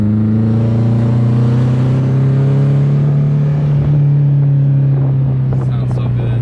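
A car engine idles and rises in pitch as it revs, a steady low rumble with strong harmonics, loud and close throughout.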